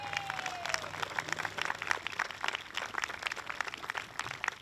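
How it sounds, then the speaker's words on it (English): Steady applause from a concert crowd in Silver Bay, Minnesota, for the donors, dense clapping that holds for several seconds at an even level. "Let's give a round of applause to all of our donors"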